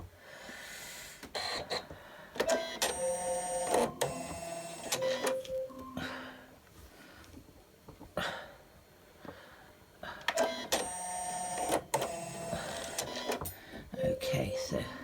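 A home embroidery machine stitching an Xmas angel design runs in loud mechanical bursts of rapid whirring and clatter, stopping and starting, with a person talking quietly in the gaps.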